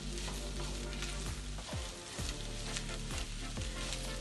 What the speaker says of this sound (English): Frying away.